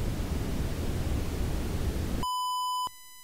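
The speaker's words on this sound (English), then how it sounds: "pink noise" Pink noise from the Logic Pro X Test Oscillator: a steady, loud broadband hiss for about two seconds, then it cuts off abruptly and a pure test tone with harmonics takes over.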